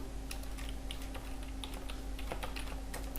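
Keys on a computer keyboard click in quick irregular taps as a new name for a pen drive is typed, close and light over a steady electrical hum, with no talking.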